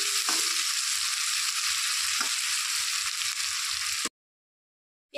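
Onions fry in hot oil with a pinch of salt, giving a steady, loud sizzle with occasional stirring scrapes. The sizzle cuts off abruptly near the end.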